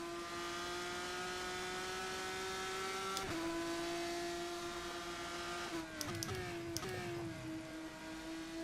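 A GP3 2018 race car engine in rFactor 2 holds a steady high-pitched drone, then drops sharply in pitch with a few quick gearshift blips and rev changes.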